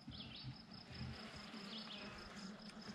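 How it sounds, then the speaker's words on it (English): Honey bees buzz steadily around an open hive during a beekeeping inspection, a continuous low hum near the listener with a few brief higher insect whines drifting past. "there's a pretty good amount of bees"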